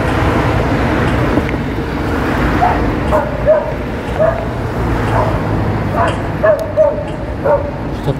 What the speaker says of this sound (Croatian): Šta pas ima problem?